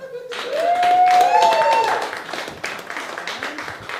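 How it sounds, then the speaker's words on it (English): Applause from a small stand-up comedy open mic audience for a comedian, a burst of clapping mixed with cheering voices and a whoop that fades into scattered claps and crowd chatter. "Everyone, huge round of applause for Doug."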